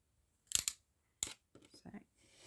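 Paper pieces lined up on a cutting grid are snipped in a few quiet, close cutting strokes, with sharp slicing bursts separated by pauses and some faint handling sounds afterward.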